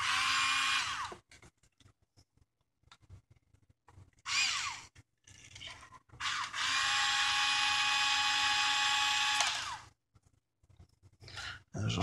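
A screw is backed out with a power driver in a bench repair of a broken front piece, giving two loud whirring bursts, a short one and a longer one of several seconds, close up, separated by quiet handling clicks.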